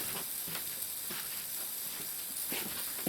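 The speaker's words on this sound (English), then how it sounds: "Listen to that sizzle when it goes on." A tilapia fillet sizzles in a hot pan on a wood stove in a tiny house on wheels, a steady bright crackling hiss with small pops, close and without talk.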